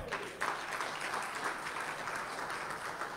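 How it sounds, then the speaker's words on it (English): Steady applause from a church congregation during a sermon, hands clapping continuously at moderate volume for a few seconds, with no talking over it. "give him a hand clap."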